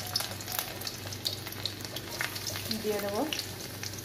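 Chopped garlic sizzles in a hot wok, a steady broadband frying hiss under a brief spoken phrase, with a low cooking hum and scattered light crackles throughout.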